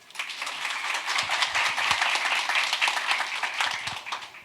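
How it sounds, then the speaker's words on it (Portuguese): A lecture audience applauds at a scholarship talk, with moderately loud, slightly uneven clapping from a modest crowd that swells and fluctuates for a few seconds and then fades. "Uma salva de palmas."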